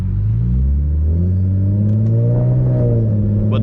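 A supercharged Infiniti G37 engine running high-ethanol fuel rumbles steadily and then revs up, its pitch climbing smoothly as it accelerates, loud and close with no voices.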